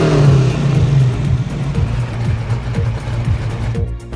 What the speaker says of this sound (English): as I start up my car now as I to toggle the ignition